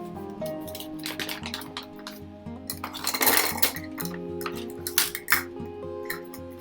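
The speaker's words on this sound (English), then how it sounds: "I'm going to put a cup of flour in the bowl." Flour tipped from a cup into a bowl for no-cook homemade playdough, heard as a mix of soft pouring hiss and clinks of the cup and dishes against the bowl at close range, with no talking.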